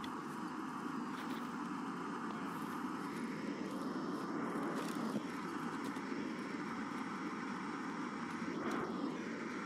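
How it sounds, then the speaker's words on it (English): A steady propeller-plane drone from an airplane flying overhead in the game Escape from Tarkov fills the whole stretch, loud and unbroken, with faint clicks and movement sounds over it. "Can't hear shit with this stupid plane."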